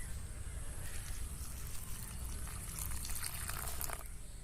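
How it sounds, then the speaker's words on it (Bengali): Freshly gathered wild mushrooms being washed in water, a continuous soft splashing and trickling with faint rustling, fairly quiet and steady throughout. "ছাতুগুলোকে খুব পরিষ্কারভাবে ধুয়ে নিতে হবে, একটু জলে ভিজে থাকুক।"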